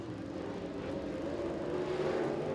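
Dirt late model race car engine roaring steadily on a short track at Oakshade, a continuous loud mechanical drone with no talk over it.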